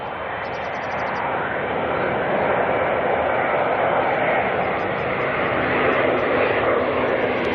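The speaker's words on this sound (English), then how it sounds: "we have got another heavy on final. China Airlines out of Brisbane." A China Airlines Airbus A350-900 from Brisbane lands at Auckland at night with a loud, continuous jet roar that swells slightly and holds steady throughout.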